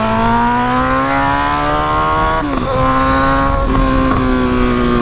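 A Honda CB1000 motorcycle with only the exhaust pipe roars while being ridden, its engine holding a loud, close, steady drone with rising pitch, a brief dip around a gear change, then pulling strongly again.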